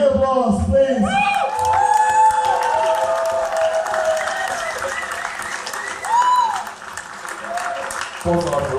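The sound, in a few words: audience applause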